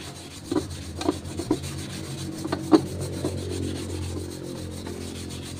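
An oil-stained household item being scrubbed with a cleaner, giving close, rhythmic rubbing strokes, a few sharper scrapes early on then a steadier abrasive scrub, with no talk.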